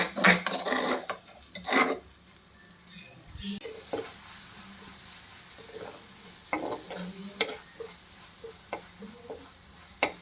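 Crushed onions fry in hot coconut oil while cooking a prawn roast, giving a quiet, steady sizzle broken by sharp clanks and scrapes of a utensil stirring the pan, louder at first and then more sparse.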